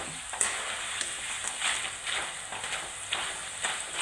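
Sliced raw plantain chips deep-frying in oil, a loud, continuous bubbling sizzle up close, with periodic swells as the pieces are stirred round and round.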